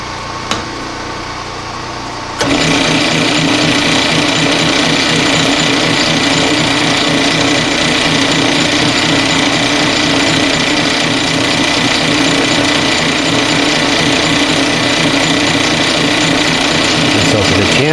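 A chamfering tool cuts during a diamond lap grinder build. After a quiet start the machine kicks in abruptly with a loud, steady, close grinding whine that holds unbroken to the end.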